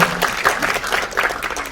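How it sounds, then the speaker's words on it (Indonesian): An audience at a film press conference and screening applauds, a dense burst of clapping from a crowded room, fairly loud and close, with no voice speaking over it. "Tepuk tangan dong untuk Mas Afandi."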